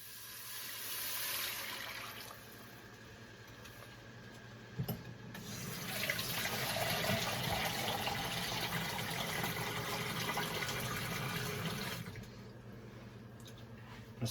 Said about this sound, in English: Now we can start adding our water.